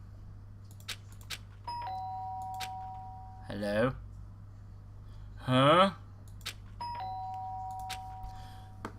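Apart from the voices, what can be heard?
doorbell ringing from a video game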